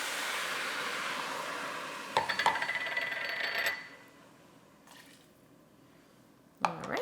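Plain tap water, about 2.5 cups, pours into a Ninja Foodi pot in a steady splashing rush that shifts pitch, then cuts off, leaving a few quiet knocks and a final clunk.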